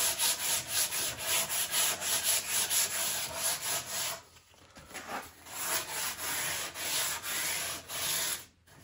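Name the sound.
sandpaper sanding a wooden guitar neck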